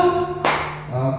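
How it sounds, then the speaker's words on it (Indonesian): A group claps together once in a single sharp, loud burst at an Indonesian teachers' session on positive classroom culture, with a brief room echo following. "kalau sudah sepakat dan sudah diyakini, tepuk 1."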